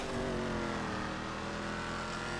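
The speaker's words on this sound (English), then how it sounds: "Well, that's a ramp car." A Krieger supercar races in GTA 5, its engine revving hard and continuous with a strained, steady whine during a volcano map race, loud and close with no talk.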